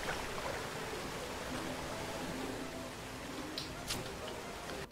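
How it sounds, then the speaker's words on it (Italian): Waterfall ambience from a video game map of floating islands, a steady broadband rushing water wash that holds evenly throughout, with faint brief game effects on top. "anche con il suono della cascata."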